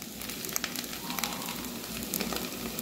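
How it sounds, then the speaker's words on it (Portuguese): An egg frying in a pan gives a steady, close sizzle dotted with small popping crackles of hot oil, moderately loud and unbroken by any voice. "Depois vou fritar um ovo pra pôr aqui dentro."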